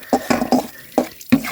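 Kaolin clay mixed with water in a container, heard as five short wet stirring and scraping strokes close by, in an uneven rhythm with brief pauses and no speech.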